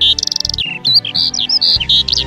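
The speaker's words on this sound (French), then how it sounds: "Le chant des oiseaux." Birds singing up close, with bright, rapid chirps and warbling trills running continuously and loudly throughout.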